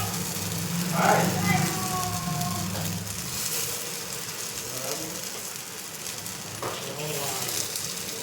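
Fresh green corn fritter batter is spooned into hot oil in a pan, giving a soft, steady sizzle and crackle beneath a person speaking throughout.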